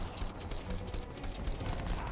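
Gunfire in the video game Crysis 2, rapid rattling bursts of automatic shots over a busy, steady battle mix, fairly quiet and continuous throughout.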